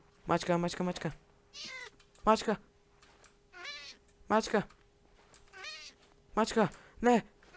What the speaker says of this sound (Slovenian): Mačka umira, mačka.